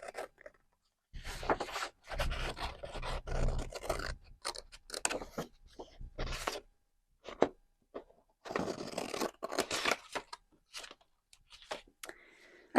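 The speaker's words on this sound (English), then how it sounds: "I'm going to cut that out" Scissors snip through purple paper being cut out to form a small pocket for a dragon-themed journal, with a series of close, crisp cutting and rustling bursts separated by short pauses.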